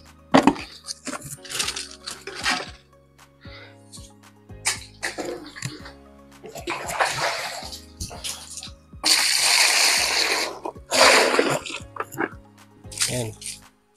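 Water is poured out of a dipper or bucket drawn from a household well, landing in several loud, close splashes and spills with short pauses between them, while people talk over the splashing.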